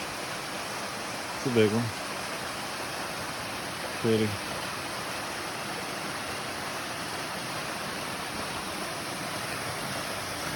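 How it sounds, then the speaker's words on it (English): Ray Cove Waterfalls on the Bartram Trail give off a steady, full rushing hiss that fills the whole clip, while a person speaks briefly twice over it. "And you immediately come to this Ray Cove Waterfalls."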